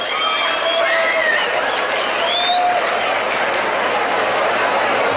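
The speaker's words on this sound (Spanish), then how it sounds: "¡Aplausos!" An audience at a bull-riding rodeo tournament applauds a bull from Rancho Santa María, a loud, steady wash of clapping and crowd noise with whistles and shouts rising through it.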